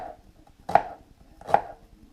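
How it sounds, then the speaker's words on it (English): A knife chops through half an onion on a board, two sharp, distinct cuts about a second apart, close and crisp against a quiet background. "Just chop those up into small bits. Onion, just got a half of an onion."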